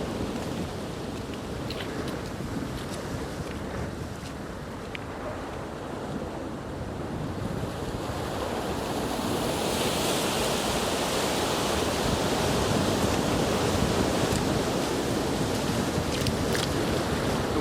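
White water surges and breaks over coastal fishing rocks in a continuous, loud rush of surf that swells louder midway, mixed with wind and no voices.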